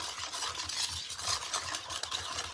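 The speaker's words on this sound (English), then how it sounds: "So I'm going to mix this all together." Sugar being stirred into an ice cream mixture in a bowl, a steady close gritty scraping and swishing that continues throughout with no pauses.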